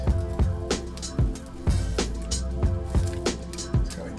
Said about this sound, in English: the first thing we're going to do is add our spinach. You want to add it in, juice and all